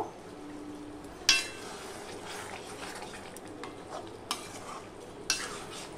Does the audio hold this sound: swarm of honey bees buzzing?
no